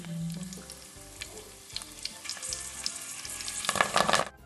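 Hibiscus flowers and leaves frying in hot coconut oil for homemade hair oil, a steady close sizzle with soft stirring clatters that swells into a louder, crackling burst near the end.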